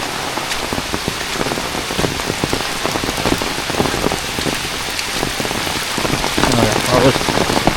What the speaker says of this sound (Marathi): पाऊस नुसता पाऊस पाऊस पाऊस